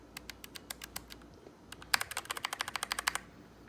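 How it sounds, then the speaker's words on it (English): Rapid keystrokes on a SteelSeries keyboard fitted with Gateron red linear switches, first a sparse run of crisp clicks and then a faster, denser burst of about a dozen taps, close and clear with no talk. "So this is the Gateron Steelseries red switch,"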